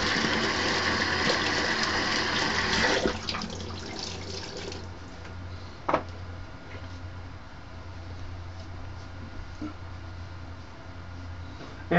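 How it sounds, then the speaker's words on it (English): Cold water running from a tap for a rinse during a shave, a loud steady gush for about three seconds that cuts off, followed by quiet drips and faint splashes. "Cold water rinse."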